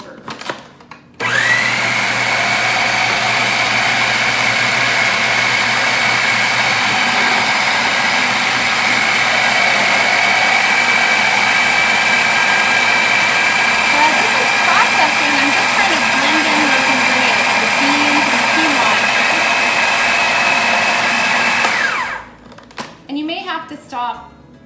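A food processor chopping vegetables for oat and bean veggie burgers, a loud steady whirring motor running for about twenty seconds before stopping with a few rattling clunks.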